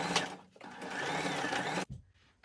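A sewing machine stitching boxer shorts fabric runs in a steady, close, loud whir for nearly two seconds, then stops abruptly.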